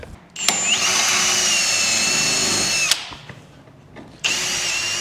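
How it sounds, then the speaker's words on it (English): A power drill whines at high pitch while drilling out pop rivets in a farm shed during Western Australian harvest repairs, running steadily for about two and a half seconds, pausing, then starting again loud and close. "We're just undoing all these pop rivets."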